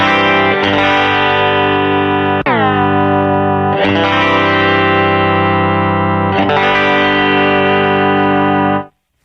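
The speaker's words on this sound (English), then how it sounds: "it's not like an overwhelming, like 80s tri-chorus effect, but it's very subtle" Sustained electric guitar chords ring out one after another, each strum shimmering with a gentle, subtle dimension chorus pedal widening, clean and close, fading at the end.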